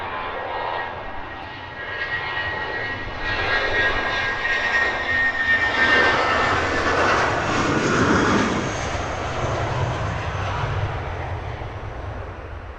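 A British Airways airliner departs Heathrow Airport, its engines roaring steadily at a distance, building in loudness through the middle before easing slightly, with no talk over it.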